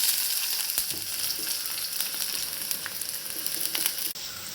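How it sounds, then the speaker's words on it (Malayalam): Chopped onion sizzling and crackling in hot coconut oil, a loud, steady close-up frying hiss with scattered pops and a brief stir near the end. "ഉള്ളി എടുത്തിട്ട് വെളിച്ചെണ്ണ ഒഴിച്ച് ചൂടായി കഴിഞ്ഞിട്ട് ആ ഉള്ളി ആ വെളിച്ചെണ്ണയിലോട്ട് ഇടുക"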